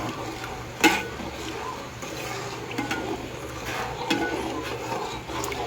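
Soft scraping and clinking of a spoon stirring an atchara pickle mixture in a metal pot, with a few sharper knocks against the side.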